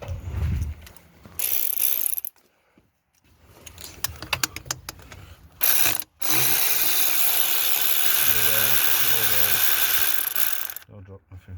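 A ratchet clicks in quick runs while a Mercedes V6 diesel oil cooler is being removed, with pauses of near silence between the bursts, then a sustained mechanical whir and clatter.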